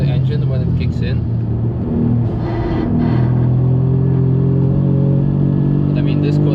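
A car engine hums with a steady low drone, then its pitch rises as it accelerates on the Nürburgring, with brief voice-like bursts over the top.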